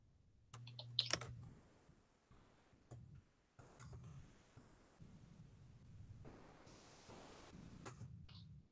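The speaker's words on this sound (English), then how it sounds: "Can you see what I'm typing right now?" Intermittent clicking of keys on a computer keyboard, in short uneven bursts with pauses, fairly quiet and close.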